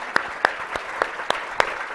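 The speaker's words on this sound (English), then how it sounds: "Here, I finally got an applause." Sparse applause at an open educational resources summit keynote, a few distinct, isolated claps spaced roughly evenly, sharp and fairly close against a quiet room.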